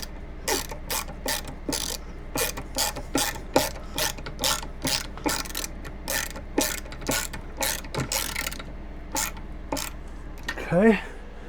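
A ratchet drives screws while a small dining room is built inside a box truck, giving a long run of close, evenly paced clicking bursts with short pauses between strokes and a brief vocal sound near the end.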